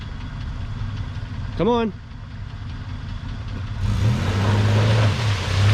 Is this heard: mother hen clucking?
no